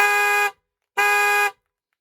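A repaired car horn sounds twice, each honk a loud, steady, half-second blare separated by a short silence, with no voices.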